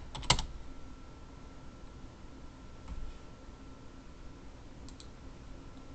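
Keystrokes on a computer keyboard, a few soft isolated clicks scattered over a quiet background hum rather than a steady run of typing.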